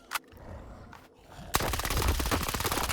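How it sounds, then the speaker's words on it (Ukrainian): A gun in the video game STALKER 2 fires in automatic bursts, a rapid dense string of loud shots that erupts after a few quieter isolated sounds and keeps going to the end. "з цією пушкою очередю стріляти нежелательно"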